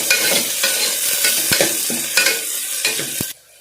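A spoon scrapes and stirs through sizzling finely chopped onions in a hot pan for chicken soup, with repeated clacks against the metal before the sizzle suddenly cuts off.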